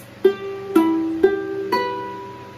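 Four single ukulele notes plucked in turn at an even pace, each sustaining and overlapping slightly, heard close with no voices.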